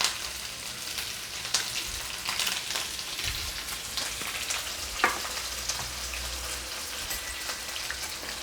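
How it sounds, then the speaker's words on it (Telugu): Chopped onions, green chilies and ginger garlic fry in a pan with curry leaves, giving a steady close sizzle and crackle with occasional sharper pops and spoon stirring. "ఇంకొక 1/2 స్పూన్ నేను ఉల్లిపాయలతో పాటు వేయించుతున్నాను."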